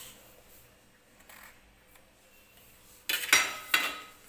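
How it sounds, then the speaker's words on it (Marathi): Knife cutting fresh coconut into small pieces in a home kitchen, quiet at first, then a few sharp, loud chopping clacks near the end. "हे जे खोबरं घेतलेलं आहे त्याचे मी छोटे छोटे तुकडे करून घेणार आहे"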